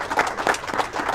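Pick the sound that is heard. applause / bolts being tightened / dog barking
applause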